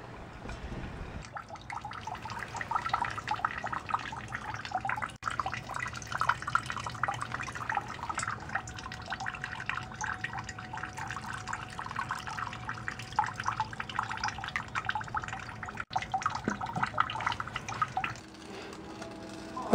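Filtered water from a homemade survival filter pours and drips steadily into a pan below, a continuous close trickle and splatter lasting nearly twenty seconds before it tapers off, with no talking.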